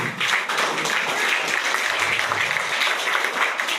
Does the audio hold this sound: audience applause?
yes